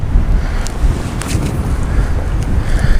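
Strong wind roars and buffets the microphone continuously beside a pond, a dense low rumble with no speech.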